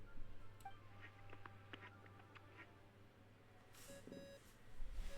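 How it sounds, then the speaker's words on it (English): A Dodo communication device from the Genshin Impact video game rings with a few short electronic beeping tones near the end, following faint scattered clicks over a low steady hum. "What's that ringing?"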